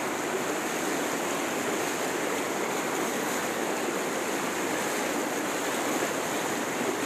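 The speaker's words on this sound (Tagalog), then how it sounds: "umapaw ang tubig dito sa amin" Steady, dense rush of overflowing floodwater from heavy rain in Cabatuan, Isabela, Philippines, like a swollen flow pouring over, constant and fairly loud with no voices.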